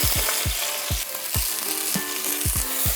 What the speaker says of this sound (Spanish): la importancia de las espinacas hay que freírlas en su punto, ni mucho ni poco